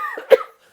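A single short cough, close and fairly loud, cut off quickly, as if demonstrating how a cough spreads in a room.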